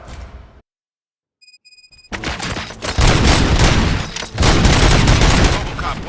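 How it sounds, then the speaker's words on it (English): Bursts of heavy gunfire in the video game RoboCop: Rogue City crash in after a short silence, loud, dense and sustained over several seconds with brief gaps. "Gunshots? What's going on?"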